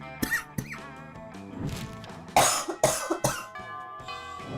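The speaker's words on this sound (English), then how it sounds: "Sorry for the cough." A few sharp, loud coughs break out in short bursts over steady tonal background sound from the game Monster Prom, with quieter pauses between them.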